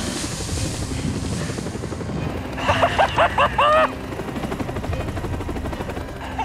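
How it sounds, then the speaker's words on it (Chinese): A helicopter arrives in a Monarch science-fiction monster scene, its rotor roar rumbling steadily throughout while a brief burst of pulsing, whistling tones cuts in midway. "帝王组织的直升机突然来到了这里"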